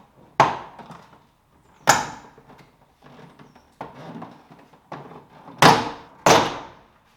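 Plastic door trim on an Audi A3 (8L) is pried and pulled loose: several sharp snapping pops spaced a second or two apart, with softer clicks and rustling handling between them, close and loud.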